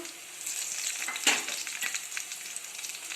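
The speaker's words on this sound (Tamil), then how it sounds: "சின்ன வெங்காயம் சேர்த்துக்கோங்க. நல்லா வதக்கிக்கோங்க." Shallots and dried red chillies fry in a pan with a steady, moderately loud crackling sizzle, broken by a sharp utensil clink partway through.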